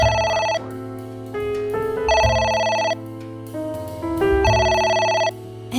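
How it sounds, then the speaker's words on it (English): A telephone rings in the video game AI: The Somnium Files, loud repeated electronic ring bursts in a steady rhythm with brief pauses between them, alone without talk. "It won't stop ringing."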